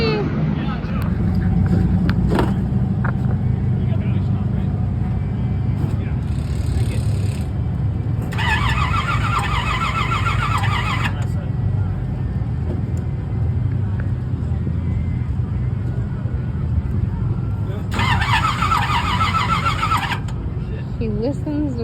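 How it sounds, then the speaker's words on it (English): A drag race car engine fires up briefly and runs rough with loud knocking from the top end, a dense close low rumble under steady talk, with short higher-pitched bursts cutting in twice. "we tried to fire it up, and it started momentarily, and there was loud knocking noise coming from the top end of the engine"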